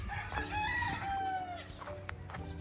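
Roosters crow and hens cluck at a gamefowl farm with imported breeding birds, several overlapping calls at moderate distance against farmyard ambience.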